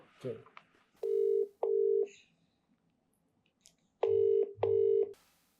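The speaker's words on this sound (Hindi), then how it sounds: "मैं किसी एक को फोन करके ट्राई करें किसी यार को कर लेते हैं" A telephone is dialed: four loud, evenly pitched keypad tones in two pairs, separated by a pause with faint rustling and a short voice sound.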